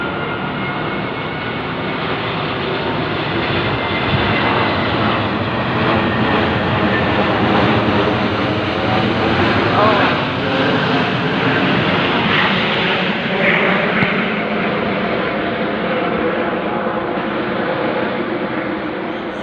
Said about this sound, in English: so that they can keep the planes going over your head